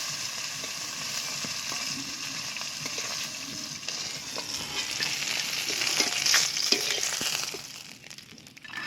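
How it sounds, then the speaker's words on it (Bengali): Katla fish pieces frying lightly in oil in a kadai for malai curry, a steady close crackling sizzle throughout with small stirring scrapes, easing off near the end. "মাছটা এইভাবে হালকা ভাজতে হবে"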